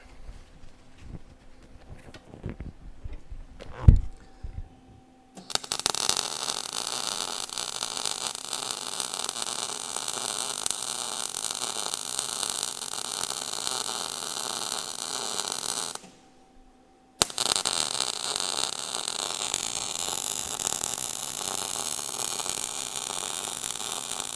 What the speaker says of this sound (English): you can start welding that off and finish it all the way up